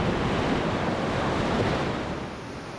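Whitewater on a rapid of the South Fork Salmon River in Idaho roars as a loud, continuous broadband rush that eases slightly toward the end, with wind buffeting and no voices.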